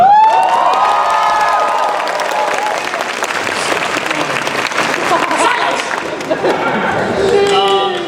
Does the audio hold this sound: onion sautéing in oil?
no